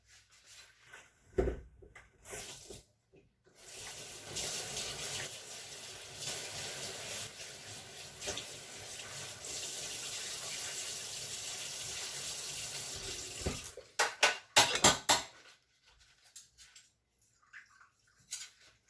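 Water rinses freshly cleaned tile grout, running as a steady splashing flow for about ten seconds between close clatters and handling noises.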